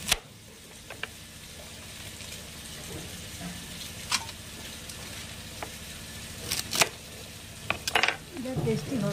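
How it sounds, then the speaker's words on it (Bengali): Spinach stems fry quietly in a pan as they are stirred, giving a faint sizzle under scattered clinks and scrapes of a utensil that grow busier toward the end. "আমি একটু নেড়ে দিচ্ছি"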